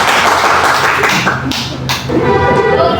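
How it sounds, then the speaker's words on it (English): Classroom of students clapping their hands together for a fellow student, a dense sustained patter of many hands filling the room at steady loudness for a few seconds, with no talking over it. "Let's give a hand clap for Mr."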